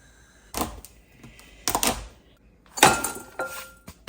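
A knife chops a bar of 70% cocoa dark chocolate into small pieces on a board, three separate bursts of sharp crunching cuts with brief pauses between them, close and fairly quiet.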